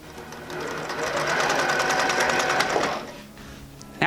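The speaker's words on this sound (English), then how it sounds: "Now I'm also going to sew across the little short end here on both sides." A sewing machine stitches steadily across the short end of a fabric bag, a fast continuous whir for about three seconds before stopping, with a brief knock at the end.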